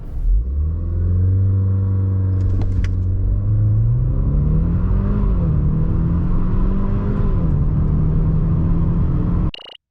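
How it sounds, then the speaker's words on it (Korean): Maserati Levante GT Hybrid with a 2-litre engine pulling hard from a standstill, one continuous rising engine note climbing through gear changes for about nine seconds, loud and close, then cutting off abruptly. "르반테 하이브리드, 과연 발진 가속 성능은 어떤지 볼까요?"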